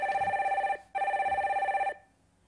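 Telephone ringing for an incoming call on a live stock-advice broadcast: two long electronic rings with a brief gap between them, loud and clear, then quiet, with no voices over them.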